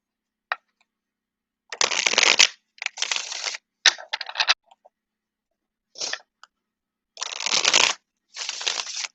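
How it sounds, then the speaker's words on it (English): Several bursts of tarot card shuffling, crisp riffling flutters separated by short pauses, with a few light taps and clicks near the start. "Let's give it one more good shuffle."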